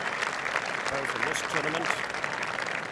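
Applause from a golf gallery at the 1981 Masters final round as the crowd rises to greet Jack: a steady, dense wash of clapping throughout, with a commentator's voice talking over it.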